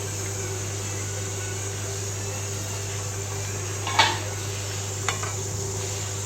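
The lid lifted off a pot of oil brinjal curry on the stove: one clear metallic clink, then a smaller clatter a second later, over a steady low kitchen hum.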